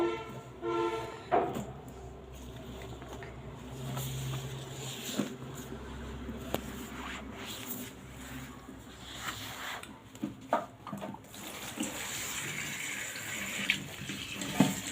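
Bottle gourd leaves rinsed under running water in a kitchen, with a steady wash of water broken by irregular splashes and handling knocks as the leaves are moved around, close and fairly quiet.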